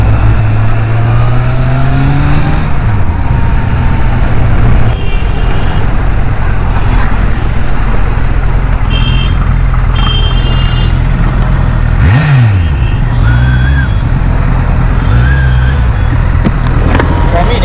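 A Kawasaki Z800 superbike fitted with a changed exhaust accelerates and revs, its engine note climbing and falling in repeated sweeps close by. People talk over the steady roar of the engine.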